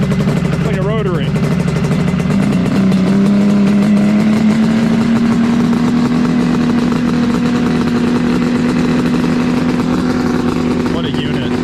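A two-stroke side-by-side engine runs loud and close at sustained high RPM, holding a steady droning whine that rises slightly over time, with a brief voice heard early on.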